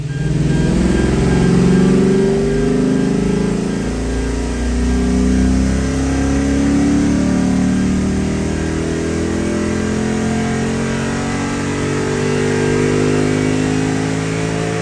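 A Lexus IS F engine with a muffler delete revs hard on a dyno, a loud, steady, throaty roar with rising harmonics that runs the full length without talk.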